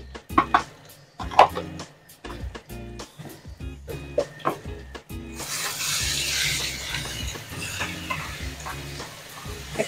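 Chicken curry being stirred in a pan with cumin and coriander powder, scraping and clinking strokes at close range followed by a steadier sizzling, frying hiss.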